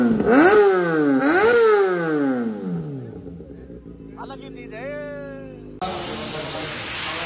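A 2023 Kawasaki ZX-10R sport bike engine revs in two sharp rising bursts that fall back, followed by a lower idle with a hiss, under people talking nearby.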